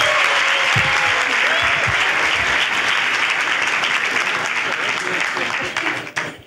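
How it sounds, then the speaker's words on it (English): A church congregation claps together for Jesus Christ, a loud, dense wash of applause that carries steadily and starts to thin out at the very end, with a few voices mixed in. "Put your hands together for Jesus Christ."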